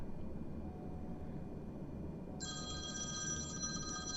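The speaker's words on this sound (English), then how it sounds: "I ring him on the wireless phone, on the telephone." A wireless telephone starts ringing partway through, a bright electronic warble sustained over a steady low background drone of aircraft cabin noise, fairly faint and unaccompanied by talk.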